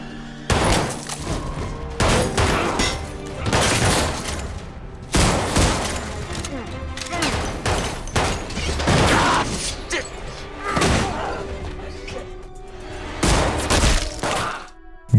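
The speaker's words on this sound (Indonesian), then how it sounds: "Akhirnya terjadi baku tembak antar Paul dan si pelaku." Gunfight in a film, with repeated bursts of gunfire breaking out in loud clusters and a few shattering crashes spread across the scene, under a background score.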